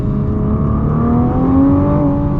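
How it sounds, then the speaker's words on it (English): A 2021 Nissan GT-R Premium's engine pulls hard under full acceleration, a loud, close, continuous growl climbing steadily in pitch throughout. "I am accelerating so hard that my GoPro is about to fall off my face"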